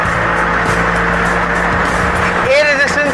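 A convertible car driven fast at about 100, with a steady loud engine roar and rushing wind throughout, rising in pitch near the end as the engine revs harder; someone talks over it.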